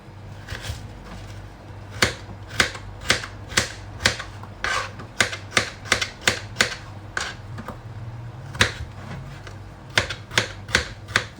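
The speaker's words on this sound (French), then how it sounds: "La pomme de terre en petits dés aussi." A knife dices a peeled potato into small cubes for a vegetable biryani, giving crisp, sharp chops in quick rhythmic runs with short pauses between, close by and fairly loud over a low steady hum.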